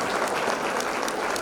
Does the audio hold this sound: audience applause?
yes